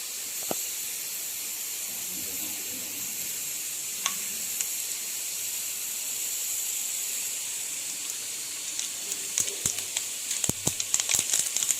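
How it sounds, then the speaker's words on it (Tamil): Steady hiss of hot oil with scattered sharp pops and crackles of mustard seeds and fenugreek, growing denser toward the end as seeds burst, no voices. "இது நல்லா வெடிக்குது."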